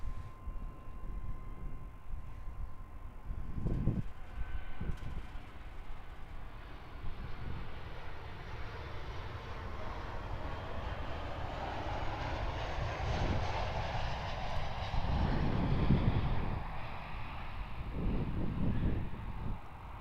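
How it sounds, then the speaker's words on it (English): A Qantas Boeing 737-800 arriving at Perth Airport from Sydney, a distant jet roar that swells gradually and stays fairly faint under wind buffeting on the microphone. "But currently coming in we have a Qantas Boeing 737-800 from Sydney."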